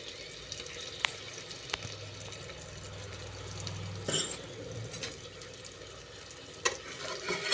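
Stuffed brinjals fry in oil with a soft, steady sizzle, broken by a few light clinks and a brief stirring scrape midway; the sound stays quiet and close throughout.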